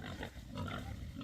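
Pigs rooting through a wet, muddy homestead clearing in fall, giving low grunts and snuffling close by over a steady outdoor background.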